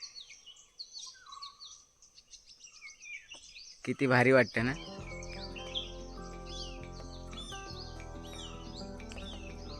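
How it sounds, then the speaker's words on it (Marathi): Small birds chirp and tweet in a cashew orchard in the Konkan countryside, scattered calls at first, then a loud close warbling call and continuing chatter, with a person speaking briefly. "तुम्ही आधी पक्ष्यांचा आवाज ऐका"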